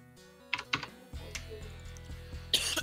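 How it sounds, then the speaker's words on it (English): Keys clack on a new computer keyboard in a few sharp close taps and a scattered run of quieter strokes, fairly faint overall with no talk. "Your keyboard's louder than you are."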